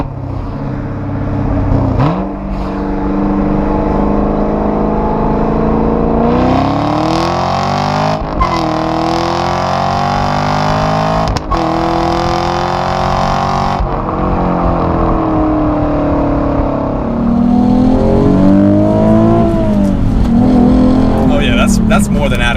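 A Chevrolet Camaro SS engine accelerates on a narrow back road, its loud drone rising in pitch through several gear changes with short breaks between pulls, heard from inside the car under a person's talk.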